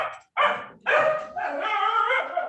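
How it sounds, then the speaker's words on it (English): Several dogs bark and yip close by in quick bursts, then break into a sustained run of overlapping barks and whimpering yelps, loud and indoors. "my dogs have become famous on Zoom"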